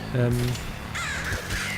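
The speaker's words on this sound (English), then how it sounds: "I think we actually just killed that crow using the ability that we just got" A crow in the video game Nuclear Throne lets out short, harsh caws as it is killed, with a voice talking alongside.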